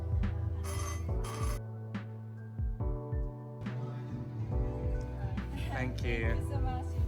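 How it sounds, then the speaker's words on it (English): A buzzing, ringing café order pager alert sounds repeatedly over a busy background of voices and music in a Korean café. "The buzzer vibrates to let us know the order is ready."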